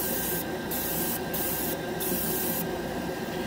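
A GSI Creos Mr Hobby Procon Boy SQ single action airbrush sprays paint in four short hissing bursts, close up, over a steady background hum.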